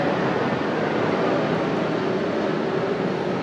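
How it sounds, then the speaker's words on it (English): A plane passes overhead on the approach path to Alliance Airport, heard from a garage where a flats skiff is being built: a steady, broad, continuous roar that holds loud and even throughout with no pauses. "We're gonna wait till that plane goes over."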